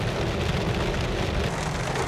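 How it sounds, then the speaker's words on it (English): Heavy rain pours down in Southern California, a dense, steady hiss of drops hitting surfaces that stays loud and even throughout, with no voices. "that rain is coming down"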